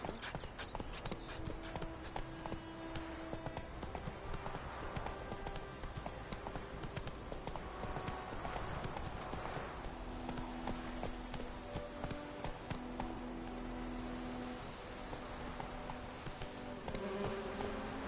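A horse trots along in The Witcher 3, its hooves clip-clopping steadily over a continuous bed of game music and ambient buzzing.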